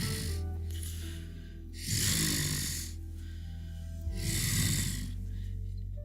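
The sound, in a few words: heavy breathing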